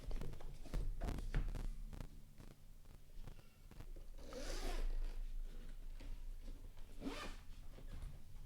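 A zipper with cannon-shaped pulls rasps in several short pulls, then two longer quieter zips, close up and fairly soft, with light handling noises between.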